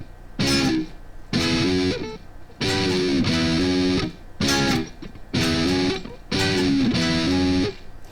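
Electric ukulele playing a heavily distorted power chord riff on the bottom two strings, loud chopped bursts of chords separated by short gaps, in a driving rock rhythm with no voice.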